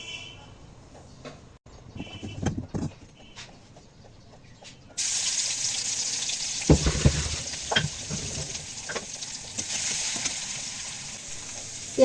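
Crushed onion, garlic, green chili and cumin go into hot oil in a pan: quiet clatter first, then a sudden strong continuous sizzle that holds steady to the end, with a few stirring knocks.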